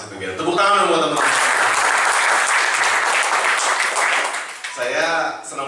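A live audience claps in a strong, sustained burst of applause at a morning event, loud and continuous through the middle, with a voice speaking briefly at the start and again at the end.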